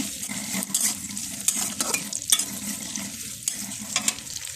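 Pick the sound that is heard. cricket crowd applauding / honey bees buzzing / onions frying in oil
onions frying in oil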